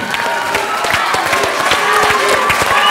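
A studio audience at a televised singing competition claps steadily, a dense patter of hands with some cheering mixed in, loud and continuous throughout.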